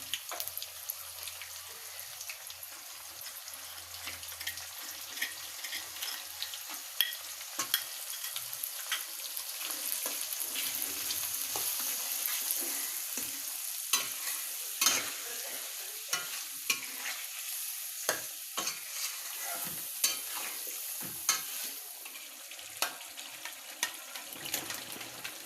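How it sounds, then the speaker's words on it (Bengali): Garlic paste and mustard paste masala for an olive pickle are stirred and sautéed in a wok, with a steady soft sizzle and repeated scraping strokes running throughout and no talk. "রসুন বাটা দিয়ে দিব আর সরিষা বাটা দিয়ে দিব। দিয়ে কিছুক্ষণ কষিয়ে নিব।"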